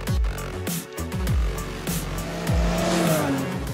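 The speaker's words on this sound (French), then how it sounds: "le moteur tire beaucoup" A 2019 Ski-doo snowmobile with a 900 ACE Turbo four-stroke engine revs hard and close, rising and falling in repeated sharp bursts of acceleration with whining pitch sweeps between them.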